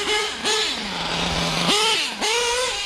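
A nitro RC truggy engine screams loud and close, its pitch swooping up and down through repeated throttle blips and a long steady idle-like stretch in between, set at an outdoor ramp.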